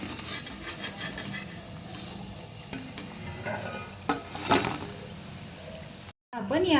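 Sabudana vada bubble and sizzle in hot oil, a soft, steady frying hiss with scattered stirring clinks and scrapes, while someone talks over it.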